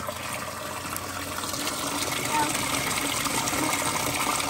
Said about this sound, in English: filling up the water just fine. It goes pretty quick.